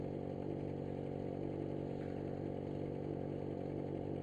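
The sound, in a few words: motorcycle riding ahead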